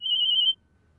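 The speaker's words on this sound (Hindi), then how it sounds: "फोन आ रहा।" A phone ringtone sounds as a steady, bright electronic tone for about half a second, then cuts off into near silence, heard alone and fairly close in a comedy sketch.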